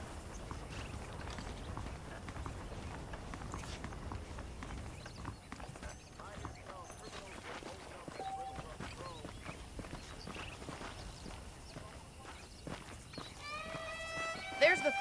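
Horse hooves clip-clop in Red Dead Redemption, a steady walking rhythm at moderate distance, blended with ambient game sound and occasional voices.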